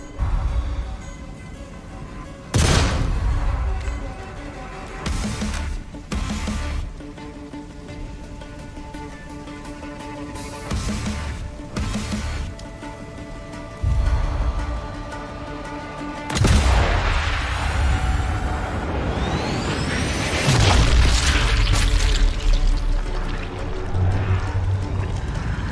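Loud rifle gunshots in the Sniper Elite 5 video game, several sharp blasts spaced across the stretch with lingering rumble and game ambience between them.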